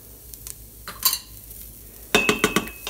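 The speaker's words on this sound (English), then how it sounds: "This ain't going to take long to saute this up with the garlic." Garlic being sautéed in an Instant Pot for 16-bean soup, heard as light metallic scrapes and clinks of a utensil against the inner pot, a cluster of quick strokes near the end, with soft sizzling and no talking.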